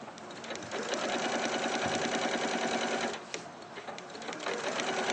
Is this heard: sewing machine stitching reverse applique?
yes